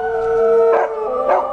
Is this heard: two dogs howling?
yes